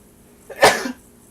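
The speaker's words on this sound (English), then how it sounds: "I'm about to sneeze" A single sneeze bursts out close and loud, a short sharp blast with a brief intake before it, then quiet.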